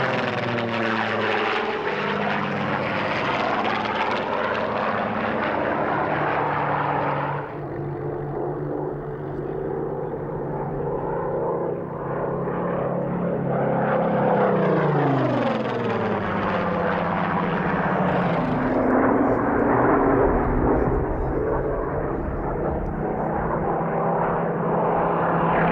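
A silver low-back Supermarine Spitfire Mark 14 flies at the 1996 Duxford airshow. Its loud, continuous piston-engine drone rises and falls in pitch as the plane passes and banks overhead.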